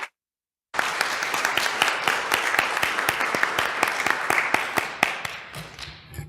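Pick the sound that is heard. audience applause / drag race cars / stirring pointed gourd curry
audience applause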